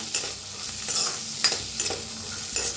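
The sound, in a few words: frying in oil in an iron kadhai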